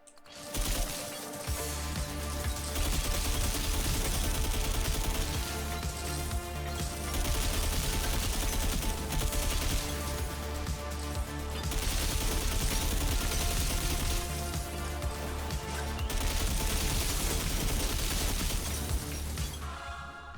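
Rapid, sustained gunfire from Sodaman's guns in the video game Death Must Die, a dense stream of shots layered over loud game music, coming in repeated bursts with brief dips, and no voices.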